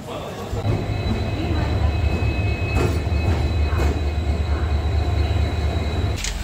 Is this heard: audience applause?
no